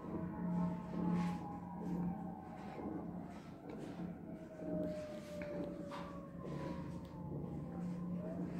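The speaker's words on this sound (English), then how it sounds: "Of course, there's sirens going by." Emergency vehicle sirens wail and slowly sweep in pitch as they pass at a distance in Las Vegas near the Bellagio, steady and fairly faint, with a low city hum beneath.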